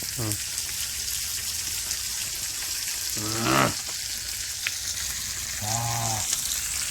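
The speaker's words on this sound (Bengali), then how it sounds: "এটা মাছটাকে ফ্রাই করি" Small pieces of fish sizzle in a pan at an outdoor picnic near a tea garden, a steady hiss of hot oil with crackling pops, while a voice speaks briefly over it a few times.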